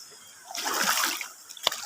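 Feet splash and slosh through a fast-flowing river over sharp stones in a brief, busy burst of water noise, ending in a sharper splash.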